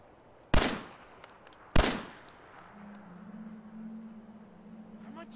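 Two sharp, loud gunshots ring out about a second apart in Fallout 4 gameplay, each with a short decaying tail, followed by a quiet low hum and faint ambient game sound.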